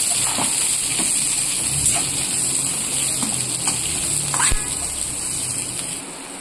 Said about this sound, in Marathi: इथे शिमला मिरची आणि कांदा ह्याच्यामध्ये जरा फ्राय करणार आहे